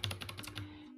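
Rapid keystrokes on a computer keyboard while editing text in Vim, a quick burst of close, crisp clicks that taper off, with a steady low hum behind them.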